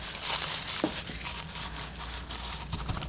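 Gift tissue paper is crumpled up close, giving a continuous, fairly loud crinkling rustle with small crackles throughout.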